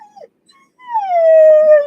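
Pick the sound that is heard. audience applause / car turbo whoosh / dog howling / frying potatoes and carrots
dog howling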